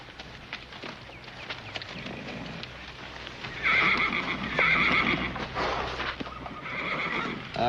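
A horse neighs and whinnies twice in long, loud calls over a steady patter of hooves clip-clopping in a Western town scene.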